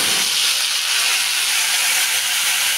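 Loud, continuous hissing sizzle of spices dropped into hot oil, steady and close for the whole stretch.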